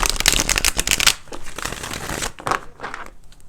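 Tarot cards shuffled up close: a fast crackling riffle, then softer, looser shuffling with light taps and rustles.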